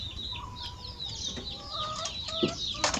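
Chickens on an organic mixed farm cluck and chatter in a loose back-and-forth, with a few sharper squawks near the end, moderately close and fairly quiet against light outdoor background.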